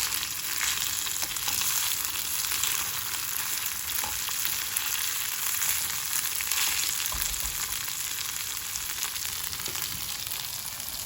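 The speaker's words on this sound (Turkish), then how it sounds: "tuz ekleyip bolca kavuruyoruz" Steady sizzling and crackling of rice sautéing with salt in a hot pan, continuous and fairly loud with faint stirring scrapes.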